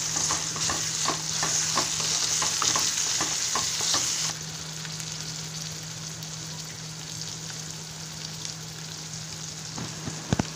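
Chopped brinjal sautéing and being stirred in a pan after softened onions, a steady close sizzle with rhythmic scraping strokes for the first few seconds, then a quieter continuous frying hiss.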